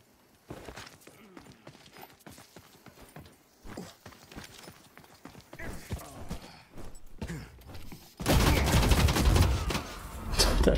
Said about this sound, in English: That shotgun is worthless